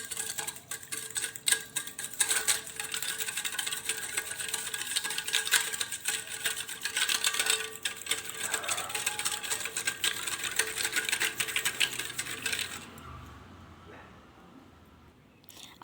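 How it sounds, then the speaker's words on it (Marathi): A wooden churner spun by hand through lassi with ice cubes makes a continuous busy clatter of knocking and sloshing at close range, then stops and fades near the end. "हे सगळं मिक्स करू आणि याला रवीने हलवूया."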